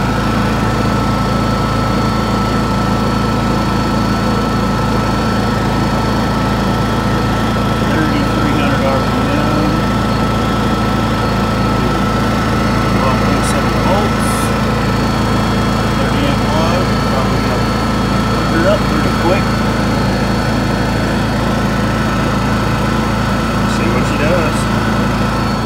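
A Honda EU7000is generator engine runs steadily throughout, a continuous droning hum with a buzzy mechanical edge and no breaks, fairly loud and close.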